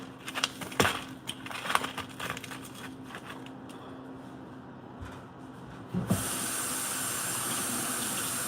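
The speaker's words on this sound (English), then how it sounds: "we're gonna do, run this in some water" Kitchen tap water runs over frozen lobster tails to thaw them for a Valentine's Day seafood boil; after some light clatter, a steady, fairly loud gush of water starts and continues to the end.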